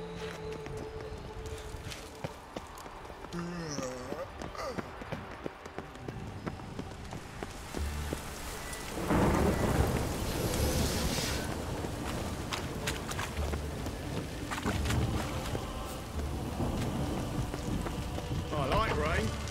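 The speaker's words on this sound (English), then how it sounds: "I like rain." Rain falling in the fantasy video game Witcher 3: Wild Hunt, a steady patter and hiss that grows heavier midway, mixed with game footsteps and other effects, with voices speaking at times.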